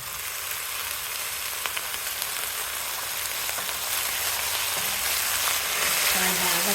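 Washed broccoli frying in a pan for a broccoli and moong dal curry, a loud continuous sizzle with crackles that swells as it goes, with no talking.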